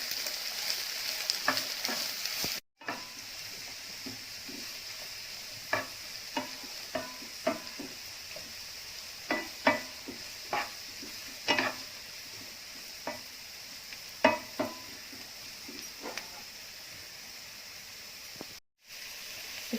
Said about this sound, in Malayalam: സ്പ്രിംഗ് ഓണിയൻ, ഇതെല്ലാം കൂടി ചെറുതായിട്ട് വഴറ്റിയിട്ട് നമുക്കിത് മാറ്റി വെക്കാം